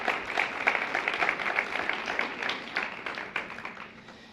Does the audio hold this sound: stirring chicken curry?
no